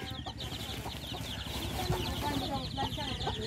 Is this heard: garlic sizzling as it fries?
no